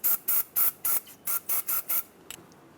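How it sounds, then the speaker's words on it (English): Eight short bursts of anti-seize lubricant aerosol spray in a steady rhythm, close and loud, followed by a faint clink, during drag link replacement on a 2003-2009 Dodge Ram 2500. "Spray some anti-seize inside so it doesn't seize up."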